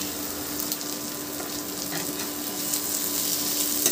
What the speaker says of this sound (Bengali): পেঁয়াজটাকে আমি একটু ভেজে নিলাম, দিয়ে একটা টমেটো ওতে দিয়ে দিলাম।